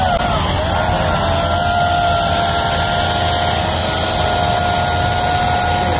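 An S8000 folding camera drone hovers nearby with a constant high-pitched whine of its small propellers, loud and unbroken throughout.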